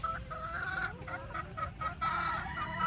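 Hens in a backyard flock clucking in short repeated bursts, a near, mid-loud chorus of overlapping calls over a low ambient rumble, with no talking.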